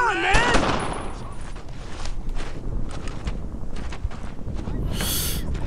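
Gunfire in the Brothers In Arms: Earned In Blood World War II shooter, with dense rattling shots and crackling battle noise continuing steadily, plus a short shout at the start.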